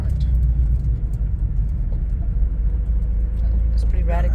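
A 1980 Porsche 911SC engine pulls hard under acceleration while driving, giving a steady, loud, close rumbling drone with no break.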